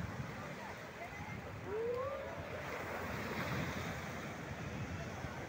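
Sea waves and surf at a surfing beach in San Juan, La Union, a steady wash of breaking water with wind rushing across the microphone and a faint tonal call briefly rising above it.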